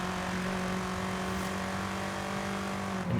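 BMW M8 engine in Forza Horizon, a steady loud droning hum held at near-constant pitch with no breaks, alone without talk.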